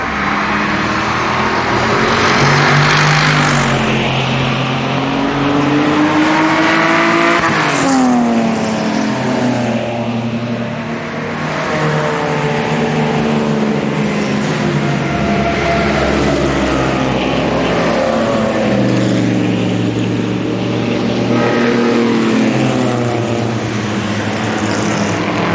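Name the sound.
Mercedes-Benz 300 SL classic car engine driving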